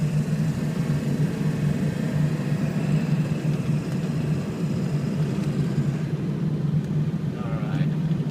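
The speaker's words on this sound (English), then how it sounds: "This is a heavy truck, boy." A 2000 Ford F350 diesel crew cab 4x4 truck drives along with a steady, low engine drone and road rumble, heard from inside the cab without pause.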